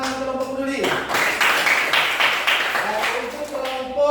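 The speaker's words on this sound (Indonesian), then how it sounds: "Tepuk tangan untuk kelompok peduli." A class of primary pupils claps for a student group in a lesson, a dense burst of clapping lasting about two seconds, close and loud, with voices heard before and after.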